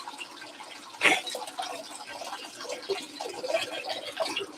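Hot water runs from a sink tap, a steady splashing trickle with a sharp clatter near the start, moderately close and without any talk.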